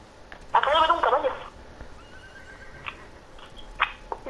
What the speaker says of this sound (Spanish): Acabo de ver un caballo.